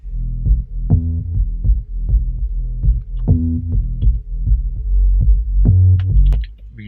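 Custom Serum synth bass patch in a reggaeton beat, deep pulsing bass notes in a syncopated rhythm with layered melodic synth tones, loud and continuous with no talking.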